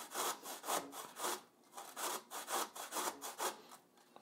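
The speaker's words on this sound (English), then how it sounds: "we're going to do the same thing on the large side of the box grater. We're going to grate this." A watermelon radish is grated on the large side of a box grater: steady rhythmic rasping strokes, each a coarse scrape, repeated about a dozen times close by with no talking.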